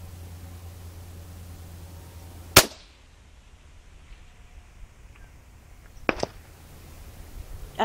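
A 22-250 Remington rifle fired at a target about 1,774 m away cracks twice, one sharp report early and a second a few seconds later, each standing alone over quiet outdoor background noise.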